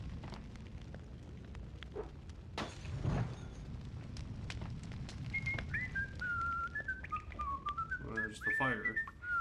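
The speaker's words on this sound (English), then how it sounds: "There's a dude whistling," A man whistles a wandering tune in the Max Payne video game, mid-distance, over a steady crackling, rumbling background of fire with a sharp crash early on.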